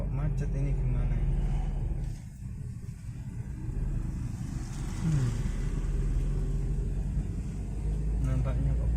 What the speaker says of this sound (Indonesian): Kok macet ini gimana ya?